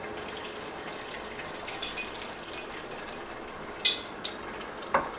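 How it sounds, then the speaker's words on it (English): Tamarind pulp soaked in water is poured into a chickpea curry, a steady wet pouring and stirring wash with small drips and clicks of utensils, close and moderately loud without talk. "we'll just add this tamarind in this, just the pulp"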